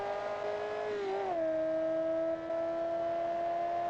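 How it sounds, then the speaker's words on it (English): A high, steady flat-plane V8 engine whine from the BeamNG racing game holds a tone, drops in pitch as the revs fall, then settles into a smooth drone. "Flat plane V8. Oh, it sounds great."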